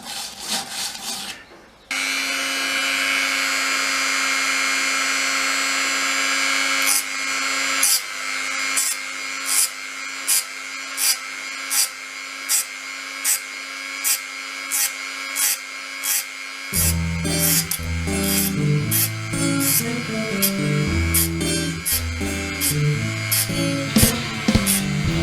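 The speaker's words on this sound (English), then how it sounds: "the edge was roughed up with a Dremel tool with a little grinding disc" Dremel rotary tool with a small grinding disc roughing up the edge of a guitar under construction: a steady high motor whine, then repeated short grinding bursts in a regular rhythm, later joined by busier scraping, close and loud.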